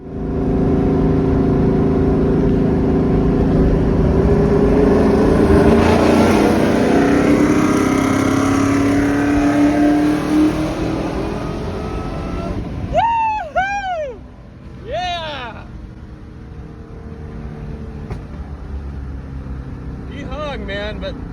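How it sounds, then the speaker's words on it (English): A supercharged Ford Mustang on drag radials races against a 1969 Mach 1, its engine roaring loudly with a high rising supercharger whine during the pull, then fading as a voice talks over it. "you can hear my blower screaming because I've gotten ahead of him, and you can actually hear my car"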